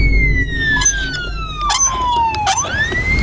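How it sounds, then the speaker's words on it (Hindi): A police siren in a video game wails loud and near, its tone sliding down and sweeping back up, with faint game sounds underneath. "खुशकिस्मती से मेरे पास पुलिस का सायरन है।"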